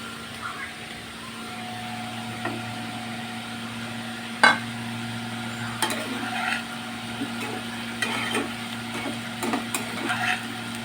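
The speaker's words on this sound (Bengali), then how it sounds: "ঝিঙেগুলোকেও একটু ভালো করে ভেজে নেব, উল্টিয়ে পাল্টিয়ে ভেজে নেব" Ridge gourd pieces fry with already browned potatoes in a pan for a jhinge aloo posto dish, a quiet steady sizzle under a low background hum, with a few soft clicks and scrapes of a spatula turning the vegetables.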